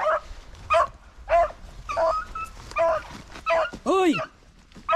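Beagles hunting rabbits in open country bark, yip and whimper in short repeated bursts, close and loud, with excited shouting mixed in between the barks.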